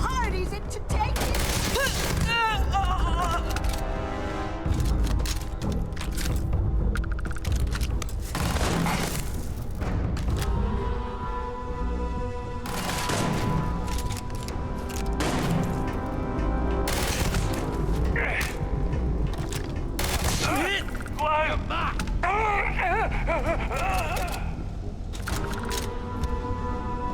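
Gunfire in the space game Starfield, with booming shots and crackling bursts under continuous dense game music and effects, while voices talk over much of the clip.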